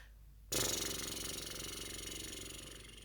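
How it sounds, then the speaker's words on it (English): A loud fluttery buzz begins abruptly and continues steadily, with a rapid pulsing rhythm like lips flapping in a sustained lip trill. "allow our air to come through the lips so the lips are flapping nice and easy"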